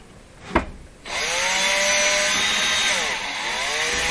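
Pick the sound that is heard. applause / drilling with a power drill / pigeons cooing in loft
drilling with a power drill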